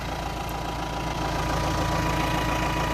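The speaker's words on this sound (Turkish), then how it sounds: "Traktörümüz gördüğünüz üzere Klas 2007 model." A 2007 tractor's engine idles steadily up close, a low, even diesel chug with a faint knocking rhythm and no voices.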